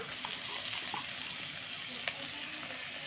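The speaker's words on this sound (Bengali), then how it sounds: "এবার ভালো করে মশলাটা একটু ভেজে নেব" Ground coriander and cumin frying in a pan for thor dalna, a vegetarian banana-stem curry, giving a steady close hiss of sizzling with faint stirring scrapes and no voices.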